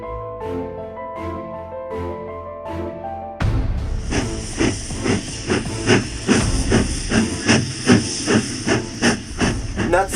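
A steam train hisses loudly after a short stretch of plucked tune, its sharp, steady hiss broken by rhythmic chuffing bursts that repeat evenly and close by to the end.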